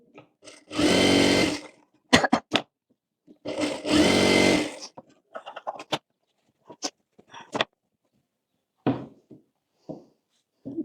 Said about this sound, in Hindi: इस तरह से दोनों तरफ यहाँ पर सिलाई कर लेंगे